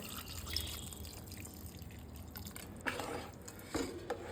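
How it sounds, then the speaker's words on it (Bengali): Milk is poured from a bowl into a pot of rice that has just come to a boil, giving a faint, steady liquid trickle and drip with a few soft clinks near the end. "চালটা একটু ফুটে এসছে, এবার আমি এর মধ্যে 1 বাটি দুধ দিয়ে দেব।"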